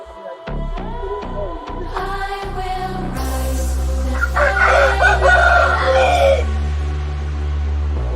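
Fighting roosters kept in cages crow loudly and close by: a run of sharp clucks leads into a long, full cock-a-doodle-doo, with other birds crowing and clucking around it.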